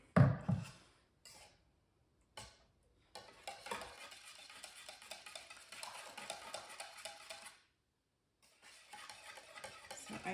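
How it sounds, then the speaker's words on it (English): Vintage Rox-Nog eggnog gets whisked by hand in a bowl, a sequence of scraping, rattling stirring strokes broken by brief pauses, then a longer stretch of steady whisking close by with no voices. "we put a little more elbow grease into mixing up our eggnog"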